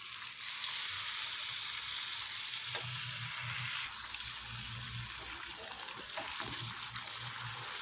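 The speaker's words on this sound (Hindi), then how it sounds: "दही का पानी खुश्क होने तक इसको अच्छी तरह से पका लेंगे।" Chicken karahi with yogurt sizzles and bubbles in a pan, a steady close frying hiss with occasional soft stirring scrapes and low bubbling, no voices heard.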